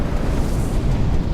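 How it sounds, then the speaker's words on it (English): Massive glacier ice breaking off and crashing into the sea, heard as a continuous deep low rumble and roar, steady and loud throughout with no voices. "these rivers of ice are flowing faster and crashing even more"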